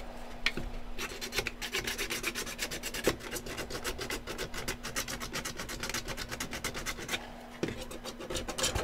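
Sandpaper sanding wood during a build, a close, fast and steady rasping scratch of rhythmic back-and-forth strokes that runs without a break.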